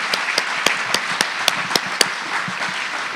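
Applause from the audience at an opening general session and RPAC awards ceremony, a steady crowd clapping with a few sharp, louder individual claps standing out through a short burst.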